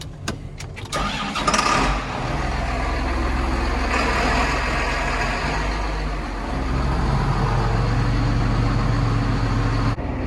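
A 730 diesel tractor engine runs steadily, a deep low rumble held for the whole stretch after a brief rough start, loud and close with no talking.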